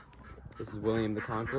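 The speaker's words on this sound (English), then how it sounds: "And you can hear the quacking in the background." Ducks on a small homestead that also keeps chickens and goats quack faintly in the background while someone talks over them.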